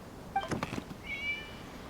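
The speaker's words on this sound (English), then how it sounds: "It was just a cat." A cat meows in the video game Genshin Impact, one short close meow followed by a second higher, drawn-out cry, clear against a quiet background with no talking.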